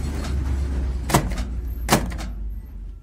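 A faulty, unlevel microwave oven door that sticks and no longer closes properly is worked by hand, giving two loud thunks about a second apart over a low background hum.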